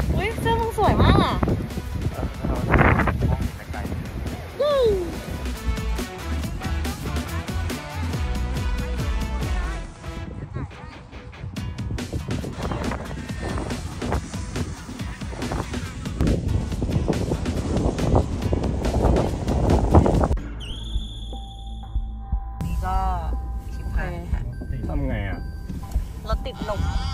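Strong wind roars and buffets the microphone in a snowy setting in Japan where a vehicle is stuck in deep snow, a loud continuous rush with gusts, while people talk over it throughout.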